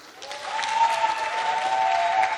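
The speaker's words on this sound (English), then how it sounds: "Kindly give them a round of applause." Launch-event audience applauding the hostesses, a sustained crowd clapping that swells after the opening and stays strong, with a faint steady tone running beneath.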